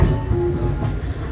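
Walt Disney World Railroad train rolling steadily on its track, a low continuous rumble with faint rattling throughout, close and moderately loud.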